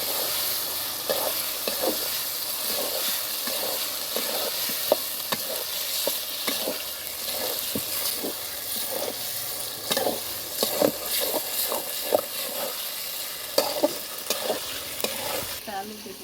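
Egg frying and being stirred in an oily chicken feet curry: a continuous loud sizzle with repeated scraping stir strokes of a spoon against the pan, close and steady.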